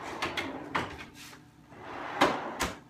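Full extension workbench drawers slide open and shut, producing about six quick, moderately close thuds and rolling clunks spaced unevenly over three seconds in a quiet room.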